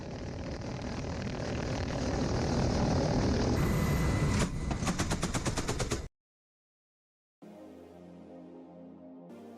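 Russian military helicopters flying in a swarm: a loud, dense engine roar builds into rapid rhythmic rotor thumping, then cuts abruptly to silence before a steadier, fainter mechanical drone returns.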